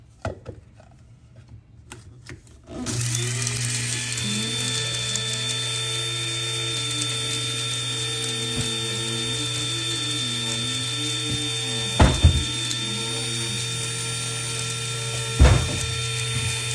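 A small electric coffee grinder whirs steadily as it grinds dry seasoning, a loud continuous motor drone with a wavering pitch that starts abruptly after a quiet lead-in, broken by two brief sharp knocks near the end.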